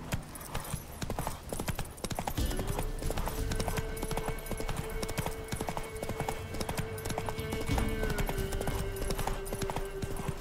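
Roach, Geralt's horse in The Witcher 3, trots with a steady, close clip-clop of hooves over a constant low hum, and a long sustained tone runs beneath from a few seconds in.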